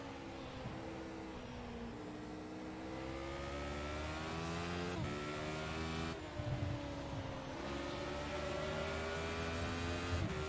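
A race car engine in iRacing revs up hard, the pitch climbing through several gear changes with brief dips between shifts, loud and continuous with no talk.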